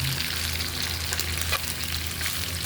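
Garlic fries for fried rice in hot oil, a loud, continuous close sizzle with faint stirring scrapes, steady throughout and with no talking.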